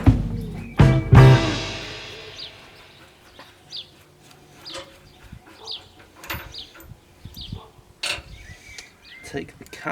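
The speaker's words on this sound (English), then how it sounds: "I'll take the nut back off" A ratchet on a Mini's front suspension undoes a ball joint nut, with a loud clunk at the start followed by scattered faint clicks and small metallic ticks in a quiet garage.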